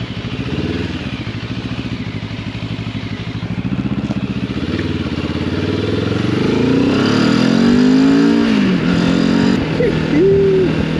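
A Benelli TRK 702 adventure motorcycle engine drones steadily under heavy wind buffeting while riding, rising in pitch as it accelerates, with the rider talking over it.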